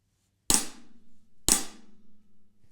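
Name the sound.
right hand flam on snare drum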